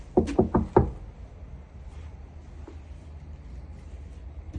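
Five quick knocks rap on a door in a close, firm burst, followed by several seconds of quiet room tone with faint background rumble.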